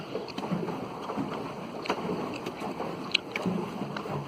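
Paddling a small boat on open water outdoors: soft, irregular splashes and paddle strokes close by over a constant wash of wind and water noise, fairly quiet, with no voices.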